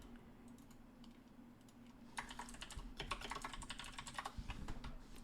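Someone types a folder name on a computer keyboard, a quiet run of rapid key clicks in an irregular burst after a near-silent opening.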